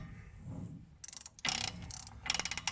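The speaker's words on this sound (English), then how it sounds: "we're going to tighten this between 50 and 60 foot-pounds while rotating it slightly" A ratchet wrench tightens a rear hub nut on a 1988 Ford F250, producing rapid clicking bursts in several short runs, close and crisp, with quiet pauses between strokes.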